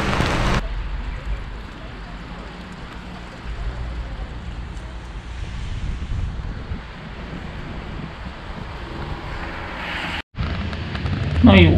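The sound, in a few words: rain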